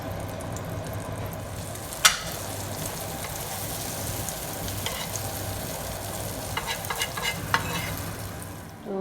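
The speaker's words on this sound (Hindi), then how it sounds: "जब तक एग हमारा फ्राई हो रहा है" An egg frying in a pan, a continuous crackling sizzle with a few sharper pops, steady and close, with no talking.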